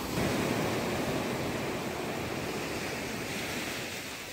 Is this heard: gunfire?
no